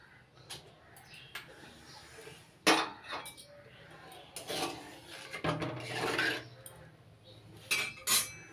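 Salt goes into hot water in a wok on a gas stove, with sharp metallic clinks, scrapes and rattles of utensils against the pan, coming in irregular bursts close by.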